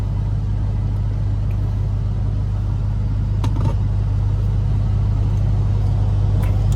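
Steady low rumble of a car driving on a road in Atlanta traffic, heard from inside the cabin with constant engine and road noise and a couple of faint clicks, no speech.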